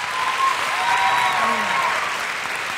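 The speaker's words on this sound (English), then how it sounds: "How about a little applause for Jordin there?" A school audience in a high school gathering claps steadily and fairly loudly throughout, with a few faint voices and shouts mixed into the dense applause.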